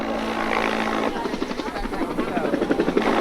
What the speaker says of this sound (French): sur le toit duquel se posent deux par deux les hélicoptères géants.